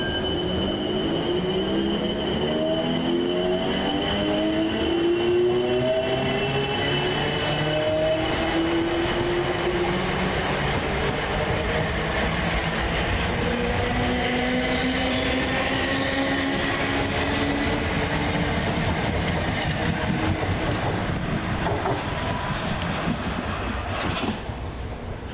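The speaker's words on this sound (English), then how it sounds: "we see 4:55:864 and 4:55:709 depart, with the 14:13 Southwestern Railway service from Kingston to London Waterloo" South Western Railway trains pull out of Twickenham station, a loud continuous rumble with rising and falling wheel squeals and clatter as the cars roll past close by.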